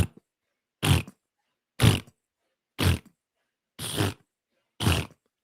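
A voice mimics a Bigfoot fart with five separate low, rough, blatting bursts, each about half a second long and spaced roughly a second apart, close up with silence between them.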